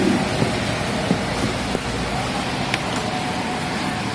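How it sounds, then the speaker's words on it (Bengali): Heavy rain pours in Chittagong as a dense, steady hiss with a few faint knocks and drips over a low rumble, loud and continuous throughout. "আজ চট্টগ্রামে প্রচন্ড বৃষ্টি হচ্ছে"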